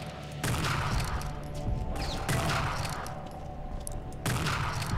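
Bursts of rapid gunfire in Unreal Tournament 2004, dense clattering volleys arriving in several loud waves with brief lulls between, close and harsh over a noisy game background.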